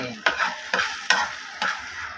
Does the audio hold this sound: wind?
no